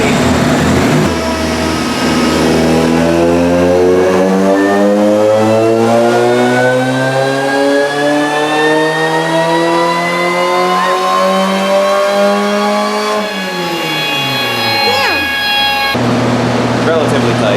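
A supercharged Mazda Miata engine on a dyno revs in one long loud pull, pitch climbing steadily for about twelve seconds before dropping off as the throttle lifts, then idling back up briefly at the end, with supercharger whine over the exhaust.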